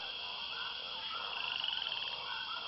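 A frog croaks from a swamp in a steady, rough run, with a rapid pulsing stretch midway through that stands out over a dense, continuous bed of high-pitched chorus sound.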